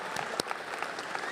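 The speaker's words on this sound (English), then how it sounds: "Can we get one more round of applause for our Sigma Theta Tau" An audience at a university honor society induction ceremony claps for Sigma Theta Tau inductees, a brief, dense, even patter of many hands sounding faint and somewhat distant, with no voices over it.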